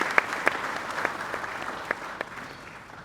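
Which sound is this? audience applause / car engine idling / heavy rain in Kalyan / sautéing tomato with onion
audience applause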